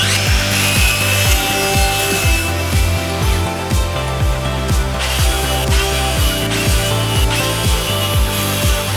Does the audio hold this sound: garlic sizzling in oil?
no